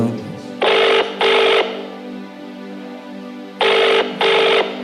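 Unanswered phone call at night during a conference call for a youth Christmas gathering, ringing in two double bursts with a pause between, loud and close over a low steady hum.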